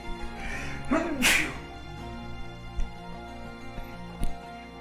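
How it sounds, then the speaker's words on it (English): A single loud, abrupt sneeze close to the microphone, preceded by a short intake of breath, then quiet with faint background hum. "And sneeze there."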